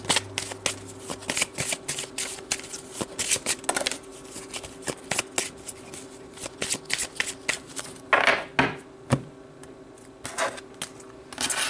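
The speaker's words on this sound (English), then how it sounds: "let's pull some cards to see where this is all headed" Tarot cards are shuffled by hand in a steady run of crisp riffling and flicking slaps, close and continuous for several seconds with no talking.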